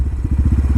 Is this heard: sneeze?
no